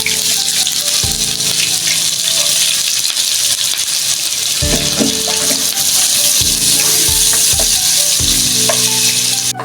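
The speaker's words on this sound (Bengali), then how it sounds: "আমি এখন পেঁয়াজটা ব্রেস্তা করে নিব" Four onions sizzle and crackle steadily in hot soybean oil, a dense, loud frying hiss with occasional stirring clatter, no voices.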